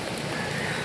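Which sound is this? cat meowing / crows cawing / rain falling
rain falling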